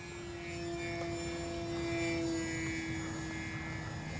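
An E-flite Sportix mid-wing RC airplane flying, its electric motor giving a steady, thin whine that swells slightly and then eases, heard alone from a moderate distance.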